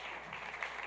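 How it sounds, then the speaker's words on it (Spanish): Applause fills a church service, a steady wash of hand claps from the congregation held at an even level throughout, fairly distant and diffuse. "Le damos un fuerte aplauso al Señor"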